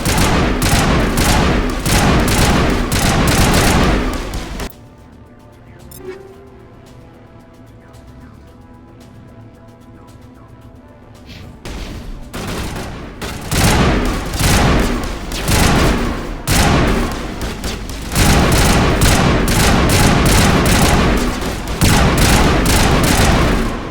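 Loud, rapid automatic gunfire from the player's weapon in Mass Effect hammers in dense bursts, then breaks off for several seconds of quieter ambience before the firing resumes in long sustained volleys.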